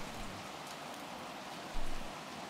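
Steady rain falling outdoors, a continuous broadband patter of drops on surfaces with a slightly louder gust-like swell near the end, no voices.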